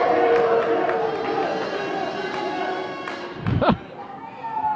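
A crowd at a keg curling event cheers and murmurs over a busy arena din, with a few thuds and a louder burst near the end while voices carry through.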